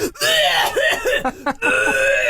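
A voice imitates a harsh, open-mouthed cough, a rapid string of rough hacking bursts and throat rasps, close and loud.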